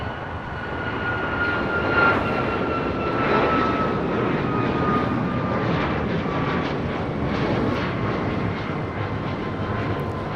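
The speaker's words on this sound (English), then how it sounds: "This is United Airlines 352 taking off to Washington Dulles on a MAX 9." United Airlines Boeing 737 MAX 9 taking off from LAX, a loud, sustained jet-engine roar with a thin whine gliding downward, rumbling steadily throughout without speech.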